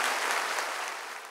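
A church convention congregation claps in unison, a steady wash of many hands that gradually fades over a second or so, with no talking.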